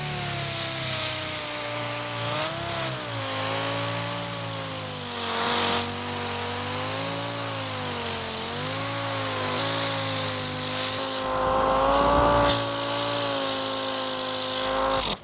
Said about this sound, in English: I'm going to start with 60 grit on the DA, see how it works before I get the grinder out.